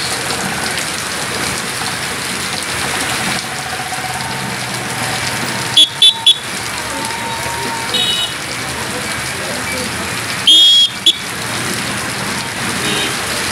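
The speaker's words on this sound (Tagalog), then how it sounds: "Kusog kayo ang ulan guys, kusog kayo." Heavy rain pours steadily near a market, a dense, loud hiss on surfaces throughout, with a couple of brief sharp sounds and faint traffic underneath.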